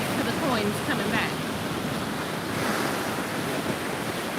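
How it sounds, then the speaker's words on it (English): Rough ocean surf crashing onto a beach, a broad steady wash of breaking waves with wind buffeting the microphone and swells rising and falling, no talking heard. "this water is like super rough today. Y'all see these waves coming in?"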